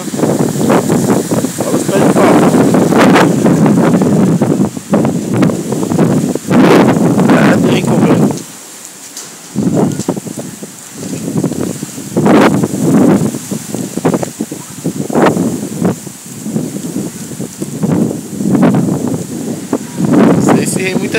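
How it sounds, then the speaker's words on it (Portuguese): Strong windstorm wind roars and buffets the microphone in heavy gusts, with one brief lull midway, loud and close throughout. "o vento tá pra carregar o carro"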